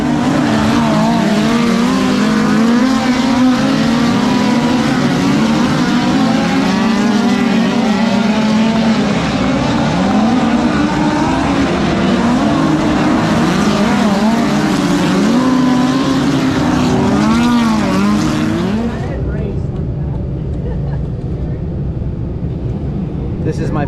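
A USAC midget race car engine screams at high revs on a dirt oval, pitch wavering through the corners for about twenty seconds before suddenly dropping away, loud and close.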